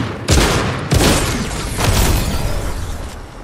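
Heavy gunfire and grenade blasts from a multiplayer shooter game, with a couple of sharp loud bursts near the start followed by sustained dense, rattling shots at close range.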